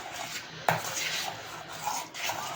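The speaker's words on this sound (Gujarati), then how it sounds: "હવે છાશ નાખીને આપણે હલાવવાનું છે." Peanut powder and buttermilk are stirred together in a pot, a close, soft scraping and swishing with a sharp utensil knock near the start, continuing in uneven strokes.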